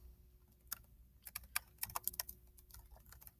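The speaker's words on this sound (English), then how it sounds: "I'm going to type his name up here into the search box" A computer keyboard tapped in short irregular bursts of quiet clicks while searching an ebook library, close but soft, with no voices.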